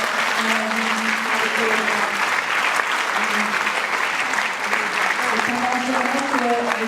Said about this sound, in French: Est-ce qu'on peut applaudir cette église?